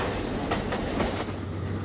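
L1 British steam tank engine running in the railway simulator Trainz, a steady rolling rumble with faint rhythmic clicks of wheels over rail joints, heard alone.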